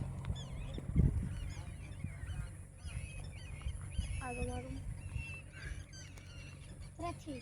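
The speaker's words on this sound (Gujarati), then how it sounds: "આ પંખીડા તો જો" Geese or other waterfowl honk and call near a farm pond, their cries rising in scattered bursts over a steady low outdoor rumble, with faint voices in the background.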